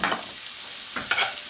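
Onions with four cloves of garlic fry in a hot pan for a shrimp and artichoke spaghetti, a steady close sizzle broken by a few scraping stirs of a utensil, no voices.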